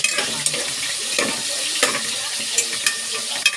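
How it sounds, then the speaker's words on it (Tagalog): Tilapia fish frying in spattering hot oil, a steady loud sizzle with sharp pops and crackles scattered throughout, heard up close. "Tilapia iprito natin. Lumatalsik yung tilapia ni Inday."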